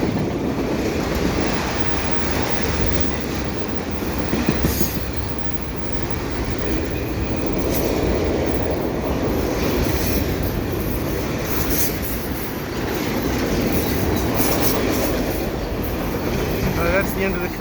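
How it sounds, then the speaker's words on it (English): A CP freight train of stacked cars rumbles past steadily nearby, a continuous broadband roar of rolling wheels and clattering cars with faint squeals, holding constant throughout. "That's the end of the train right there."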